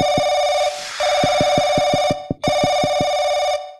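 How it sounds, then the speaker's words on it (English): A loud telephone in the video game Paranoiac rings with a harsh, buzzing electronic tone in rapid pulses, breaking off twice briefly before resuming, close and dominant. "Why is the phone so loud? Pick up the flipping phone."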